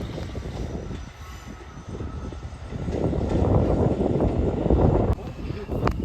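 A Class 158 diesel multiple unit departs for Newcastle from Carlisle, its engine rumble and wheel noise swelling louder midway and staying strong to the end, with a voice briefly audible over it.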